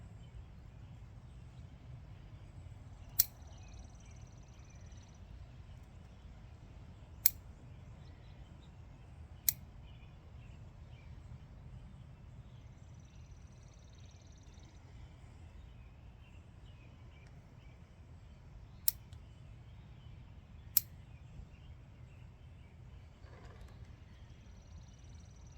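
Pruning shears cut off plant growth in a few sharp, isolated snips spaced several seconds apart, each a crisp, close click over a very quiet outdoor background, with no talking.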